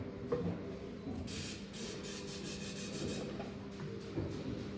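Short hissing squirts of fuel spray for an ignition demo at an airfield, several quick bursts close by against a low background rumble, with no talk.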